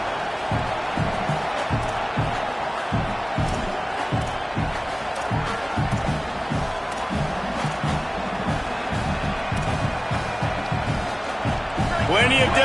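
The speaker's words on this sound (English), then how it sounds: "how nice is it to have the home crowd going absolutely bananas" Home crowd at a college football game, a loud, sustained roar of cheering with rhythmic thumping and claps, under a commentator's running talk.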